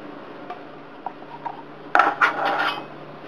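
Sugar, coconut milk and condensed milk for sapin-sapin stirred in a bowl or pot, with a soft scraping rub that turns into a louder burst of clinking utensil-against-vessel scraping partway through, close and without talk.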